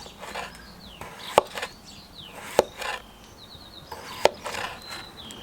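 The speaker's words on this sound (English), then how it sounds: "I was trying to cut it really thin, but definitely a food prep knife." A budget BPS bushcraft knife slices food thinly, giving three sharp, distinct cutting clicks spaced about a second apart, close up, with faint birdsong in the background.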